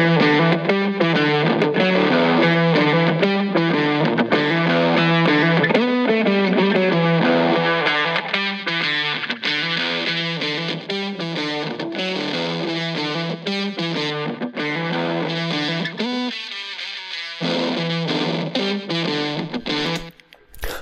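Dense, continuous music processed through the Logic Pro X Exciter plugin, its added harmonics thickening the sound; steady and loud for about sixteen seconds, then thinning briefly before a short final swell.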